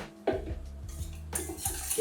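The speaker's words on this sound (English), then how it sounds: "Give that a whisk as well." Metal whisk clatters and scrapes against a bowl while freshly boiled kettle water is stirred in, a close, busy run of clinks and sloshing with a brighter burst of scraping near the end.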